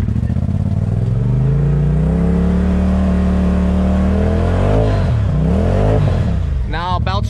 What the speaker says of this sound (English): Belt's just slipping.